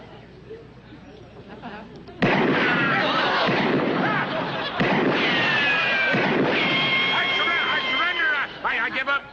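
Two loud gunshots crack out during a duel, each sharp blast running straight into a dense, noisy wash of sound, with voices calling out over it and a quieter murmur of talk before the first shot.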